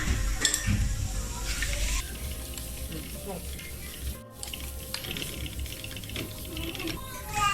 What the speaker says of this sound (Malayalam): പിന്നെ അതിലേക്ക് കുറച്ച് ഇഞ്ചിയും വെളുത്തുള്ളിയും ഒരു 3 പച്ചമുളകും മുറിച്ചത് കൂടി ഇട്ടിട്ട് നല്ലോണം വഴറ്റിയെടുക്കുക